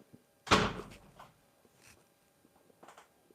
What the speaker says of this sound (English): Did you slam that door?